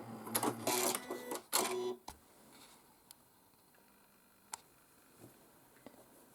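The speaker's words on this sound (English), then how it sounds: "now I have to refill my bobbin because it's at the end" Sewing machine winding a bobbin for refilling during quilting: a short, whirring mechanical run of about two seconds, followed by scattered small clicks and ticks in near silence.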